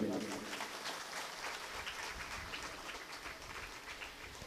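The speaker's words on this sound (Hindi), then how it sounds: "कथा पान के एक बार इनके लिए जोरदार ताली बजाइए।" An audience claps for a flute player at a Shrimad Bhagavat Katha religious gathering, with sustained, moderately distant applause that fills the whole stretch and fades slightly toward the end.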